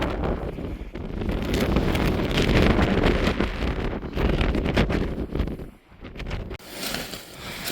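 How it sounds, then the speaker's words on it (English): Strong wind roars and buffets across an exposed hilltop by a cairn in the Peak District, gusting loudly and continuously against the microphone with a brief lull near the end, with no talking. "it's quite windy where we're pitching the Anaris"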